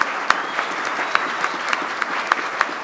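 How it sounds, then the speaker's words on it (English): A room full of people applauding business booth participants at a Hispanic community panel event, a steady wash of many hands clapping with a few sharper claps standing out, fairly close and even throughout. "would you stand so we can give you a quick round of applause and thank you?"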